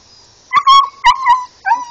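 A puppy whimpers and yelps in several high, tonal cries close by, loud and wavering with brief pauses between them.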